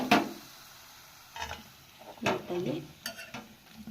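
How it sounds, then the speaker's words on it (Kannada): Garlic frying in oil while being stirred in a pan for spicy capsicum masala rice, heard as short scraping, sizzling bursts spaced irregularly, up close and moderately loud. "ಈಗ ಇದನ್ನ ಎಣ್ಣೆಯಲ್ಲಿ ಫ್ರೈ ಮಾಡ್ಕೊತಾ ಇದ್ದೀನಿ"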